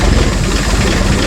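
A loud, steady engine idle, a low rumbling drone with a slight uneven chug, close by.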